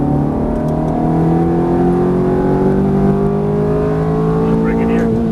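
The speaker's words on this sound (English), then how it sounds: "and right back on the throttle hard coming out." A Ferrari F430 engine pulls hard out of a turn on track, its note climbing steadily in one loud, continuous rising wail that stays close and dominant for the whole stretch.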